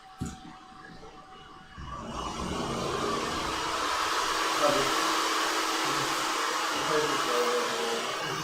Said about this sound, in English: Put the hairdryer on.